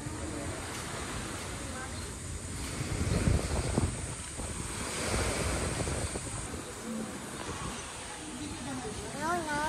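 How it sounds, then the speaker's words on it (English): Waves wash onto a beach at Puerto Galera in the Philippines, with steady surf and wind buffeting the microphone, while voices talk faintly in the background. "So this is the beach."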